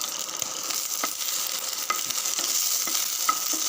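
Green chilies sauté in hot oil in a pan, giving a steady, bright sizzle with faint stirring scrapes and light ticks throughout, with no talking.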